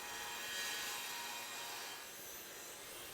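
A table saw cuts a bevel into the end of a wooden panel, a steady, fairly faint whining hiss of the blade in the wood lasting the full three seconds with no voices.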